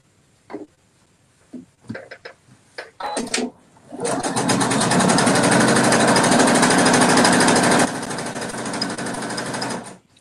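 A sewing machine stitching pieces of fabric together for a rainbow weave placemat runs at high speed in one loud, rapid, steady burst of about six seconds, preceded by scattered clicks and short handling noises.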